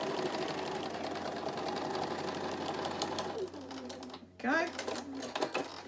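Sewing machine with a quarter-inch foot runs a steady whirring stitch along a seam, then stops; a voice speaks briefly over it near the end.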